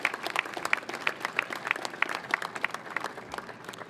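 A crowd at a ship christening ceremony for the USNS Sojourner Truth (T-AO 210) applauds Admiral Anderson with steady, dense clapping that stays even throughout, with no voices over it.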